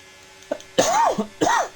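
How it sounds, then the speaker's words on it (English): Two short, loud, raspy coughs close to the mic, with a faint small sound just before them. "Sorry about the cough, it's cold."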